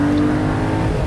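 A BMW Z3 3.0i preproduction roadster's engine hums steadily while driving, a close, loud and continuous tone with no talk over it.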